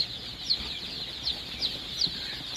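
Young Sonali chicks gathered at their feed give a steady run of thin, high peeps, several chirps in loose succession close by over a faint background hum.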